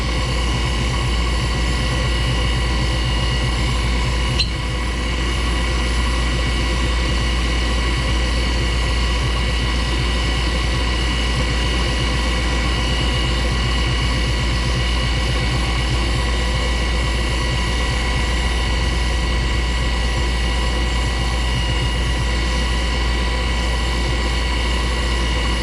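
DIY toolpost milling, drilling and grinding spindle on a Myford lathe, running as a loud, steady mechanical drone with a constant pitch and no speech.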